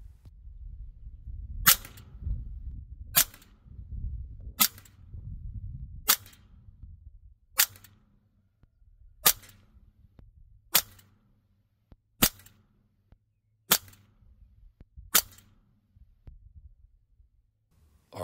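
A .25 caliber AEA SF Compact air rifle fires H&N slugs at 25 and 50 yards: eleven sharp, loud cracks spaced about every one and a half seconds, with a low rumble beneath the first few shots.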